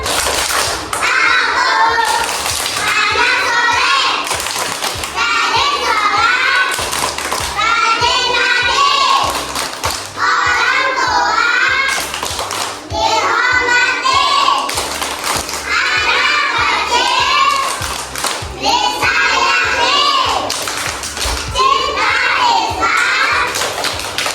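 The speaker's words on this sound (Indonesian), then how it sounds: "Tepuk tangan sholat." Young children in an early-childhood classroom clap hands in rhythm while chanting the Tepuk Sholat chant, with loud, sharp claps in repeated patterns under their sung voices throughout.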